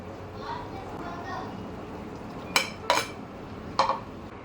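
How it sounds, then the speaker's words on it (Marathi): Spaghetti is added to sauce in a home kitchen pan, with a soft background hum and then three sharp metallic clinks of a utensil against the pan, while someone talks. "आता याच्यात ॲड करूया आपण ही स्पॅगेटी"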